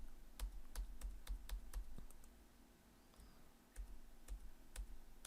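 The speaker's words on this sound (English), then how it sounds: "I'm hitting Control Z on my keyboard to undo." Computer keyboard keys pressed repeatedly for Control Z undo while working in Silhouette cutting software, a series of sharp close clicks in uneven bursts with a short pause midway.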